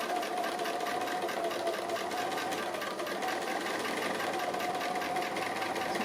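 A domestic sewing machine stitches an applique on a fabric playroom panel, running as a steady, continuous mechanical whir with a faint rhythmic clatter, close and unbroken throughout, with no talk.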